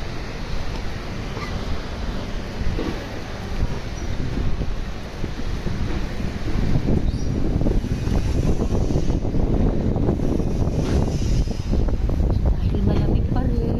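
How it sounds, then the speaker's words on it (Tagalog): Strong cold wind buffets the microphone in a steady rushing roar in Macau, growing gustier toward the end, with muffled voices faintly underneath. "Maririnig nyo yung hangin."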